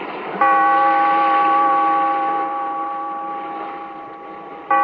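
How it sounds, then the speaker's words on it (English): A single deep bell strikes once and hums with a long, slowly fading ring, then a second stroke begins just at the end. "Bellkeeper, toll the bell."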